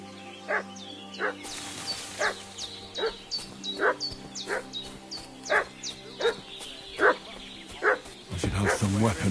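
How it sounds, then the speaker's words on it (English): A dog barks repeatedly in the video game Kingdom Come: Deliverance II, about nine evenly spaced, sharp barks at moderate distance, with a louder rustling burst at the end. "What's that dog making such a fuss about?"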